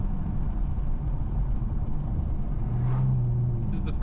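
Custom exhaust on an Infiniti Q50 with a six-cylinder engine idles at low RPM, a steady, deep rumble that stays loud and even throughout, with no voices over it.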